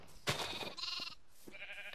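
Sheep bleat in the video game Minecraft, with several short wavering bleats in quick succession, clear and close, and no talking.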